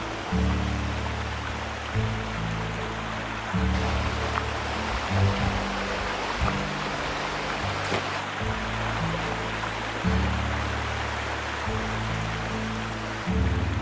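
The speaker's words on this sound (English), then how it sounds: "we're now going to be following the River Dart for a mile or two" The River Dart flows beside a walking trail in Devon, a steady broadband rush of water with no voices and no pauses.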